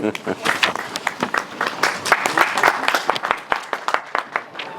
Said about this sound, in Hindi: तालियां जितनी ज्यादा अच्छी होंगी उतना ज्यादा लेक्चर अच्छा है।